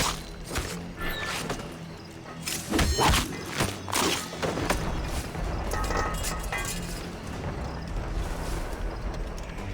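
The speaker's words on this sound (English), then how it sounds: "Is that a ship mortar?" Ship mortar fire in Assassin's Creed Rogue: a run of heavy booming thuds and crashes lands close together early on, followed by a rumbling, noisy battle din.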